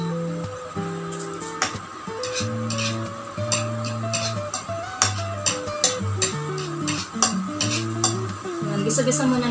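Garlic sizzles as it sautés in a pan under steady frying noise, with repeated stirring clinks and scrapes from a utensil, alongside a tonal hum or music in the background.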